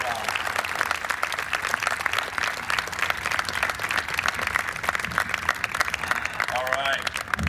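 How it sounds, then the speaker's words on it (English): A crowd at a New York State Police underwater recovery team demonstration bursts into sustained, dense applause that holds steady throughout, with a brief voice breaking through near the end. "So I'd like to give them a round of applause and appreciation for the hard work that they do all year round."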